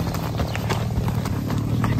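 Horse hooves clip-clop steadily as the horse walks back toward the stable after an outing, the close, regular footfalls mixed with a little outdoor noise.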